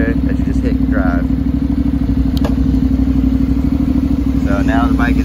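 A 2014 Honda CTX700 motorcycle engine runs at a steady, loud idle throughout, its low, constant rumble continuing beneath a man's speech and a few brief clicks and clunks.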